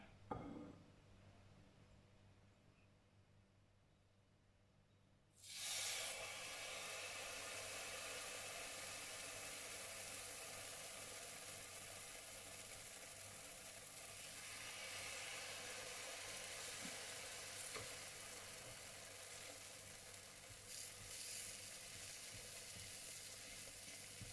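Banana batter sizzles steadily in a pan over medium heat, a broad, even frying hiss that starts abruptly after a few quiet seconds and continues close and unbroken.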